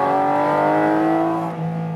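A Porsche 718 Cayman GT4 RS revs loud and close, its high-revving flat-six holding a strong harmonic whine that climbs slightly before easing off near the end, with no talk over it.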